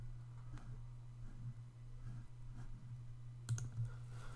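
Faint, sharp clicks of a computer mouse, a few scattered single presses and a quick double click near the end, over a low steady hum in a quiet room.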